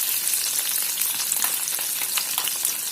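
Chana dal and dried red chillies fry in oil for a raw mango pulihora, making a loud, dense, continuous crackling sizzle close up with faint stirring and no talking.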